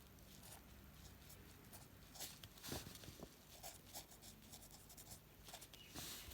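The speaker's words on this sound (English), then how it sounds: "Step by step, I will first write it in regular script" Chinese character 产 (chǎn) written by hand in regular script, a quiet scratchy pen-on-paper sound with soft irregular strokes and brief taps running throughout, close and faint with no talking.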